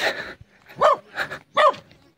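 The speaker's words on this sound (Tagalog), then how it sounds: "Nagulat ako sa iyo Toy, yung aso." A dog in the mountains of Bukidnon barks close and loud, giving a quick series of four sharp barks in an uneven rhythm with short gaps between them.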